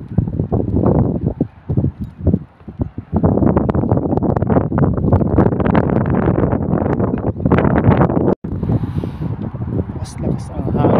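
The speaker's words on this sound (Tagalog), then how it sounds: "Lakas ang hangin mga Colbix." Strong wind buffets a microphone at a marina, a loud, steady roar with gusty surges that nearly swamps everything else, while a person talks underneath.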